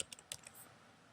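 Quick, quiet keystrokes on a computer keyboard, a few soft clicks in a short burst that fades to near silence.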